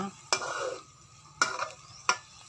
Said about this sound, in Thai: ตอนนี้เราต้องผัดพริกแกงก่อนค่ะ พริกแกงที่ใช้คือพริกแกงเผ็ดนะคะ